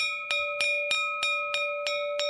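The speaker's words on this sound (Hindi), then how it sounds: "घंटी की आवाज जंगल में गूंजने लगी।" A bright bell rings in a steady rhythm, about eight clear strikes each ringing on with a sustained metallic tone.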